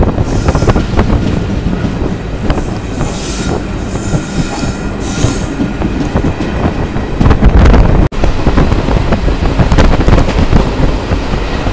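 An Azimganj to Katwa local passenger train rolls along loudly, with wheels squealing on the rails and a steady rumbling clatter of the carriages, close and continuous without talk.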